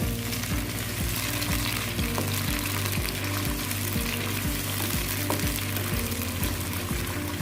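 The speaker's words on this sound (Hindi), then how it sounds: "अब इसमें हम टमाटर डालेंगे, मिक्स करेंगे।" Tomatoes frying in a pan for chicken chow mein while being stirred, a loud dense sizzle with rhythmic scraping and tapping strokes throughout, close-up and without talk.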